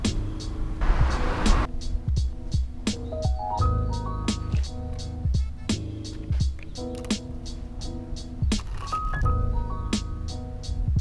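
A very narrow homemade skateboard rolling along, its wheels ticking in a regular rhythm of sharp clicks over a low, steady rumble, with tonal sounds rising and falling in the background.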